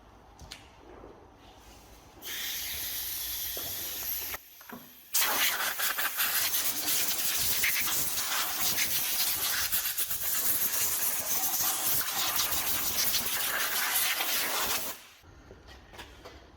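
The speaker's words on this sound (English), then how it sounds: "So brake clean, just all in there, nice and clean." Brake cleaner sprays from an aerosol can onto Mercedes W212 engine parts during a timing chain replacement, in two loud, close, continuous hissing bursts, a short one and then a long one of about ten seconds.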